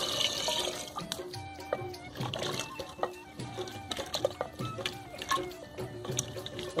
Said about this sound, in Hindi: अभी इसमें थोड़ा सा मैं पानी ऐड करूँगी